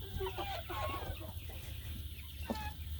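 A mother hen clucks on a farm, with soft repeated clucks and short calls over a steady low background hum.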